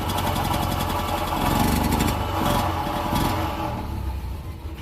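Small engine running rough and smoking, sputtering and bogging instead of taking full throttle, a loud uneven clattering drone that rises and falls slightly throughout.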